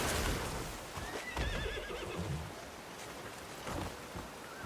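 A horse whinnies in a video game, rising over a loud rushing waterfall and cliffside ambience, with a brief clip-clop of hooves; the neigh is fairly near and short, set against constant water noise.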